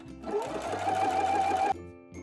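A sewing machine runs steadily for about a second and a half while stitching a sleeve placket along a chalk line, a close, continuous mechanical whir that stops abruptly.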